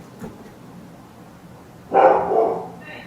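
Dogs bark in a short, loud burst near the end, following a stretch of quiet background.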